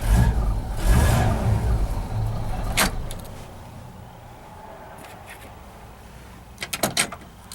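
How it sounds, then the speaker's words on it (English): A 1957 Chevrolet Bel Air fires up and settles into a steady idle, a low rumble close by, with a few clicks and switch sounds near the end. "where if I simply turn the key, starts right up."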